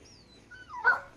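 A female dog gives a thin, rising whimpering howl, faint and close, ending in a brief louder whine, with no talk over it.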